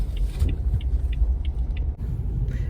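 A car driving along a road, with a steady low rumble of engine and tyres heard from inside the vehicle and light ticking above it, uninterrupted by talk.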